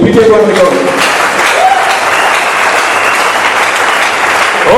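A church congregation claps and cheers in praise of the Lord, a loud continuous wash of applause that fills the whole stretch, with voices rising within it.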